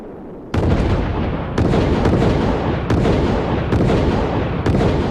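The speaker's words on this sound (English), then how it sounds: "There's a film that shows this thing going bang, bang, bang, and up it goes a ways." Project Orion test vehicle propelled by repeated explosions: a series of loud, sharp blasts about a second apart, each followed by a sustained roaring rumble, with no talking.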